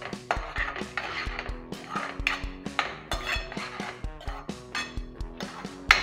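Green masala paste sautéed in a pan for a mushroom dish, a close series of rhythmic metallic clinks and scrapes from a spoon stirring against the pan over a faint sizzle.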